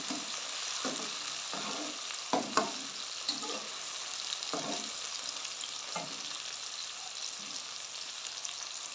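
Golden onions sizzle steadily in a pan while tomatoes go in for an aloo palak sabzi, a continuous fry hiss broken by several soft stirring knocks and scrapes, close and fairly quiet, no voices.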